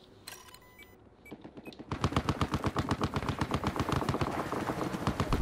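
Rapid automatic gunfire in the video game Battlefield 4, loud and sustained in a dense rhythmic burst after a couple of sparse sharp shots and brief clicks.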